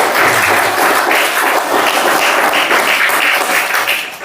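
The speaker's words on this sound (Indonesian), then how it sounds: "Beri tepuk tangan untuk Bapak Yusuf." An audience at a character-education session gives loud, sustained applause, a dense and even wash of clapping that carries on for several seconds before easing slightly at the end.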